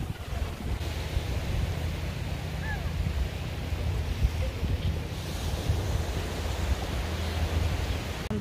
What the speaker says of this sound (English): Beach na maganda.